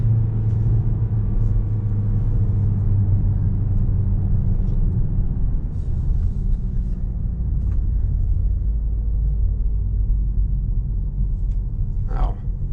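A Peugeot 3008 GT Line drives along with a steady, loud engine and road rumble heard from inside the cabin, the engine note rising gently as it accelerates, with no talking.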